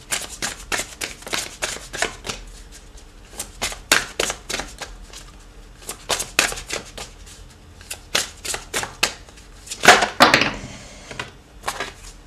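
A deck of dragon oracle cards being shuffled by hand, with rapid, crisp riffling clicks in repeated bursts, close and clear, building to a louder flurry near the end.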